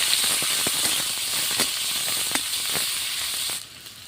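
Chopped onion and garlic fry in hot oil in a pan, giving a steady, close sizzling hiss with faint crackles, the sizzle easing slightly near the end.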